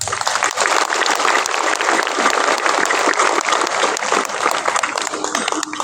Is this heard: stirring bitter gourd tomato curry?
no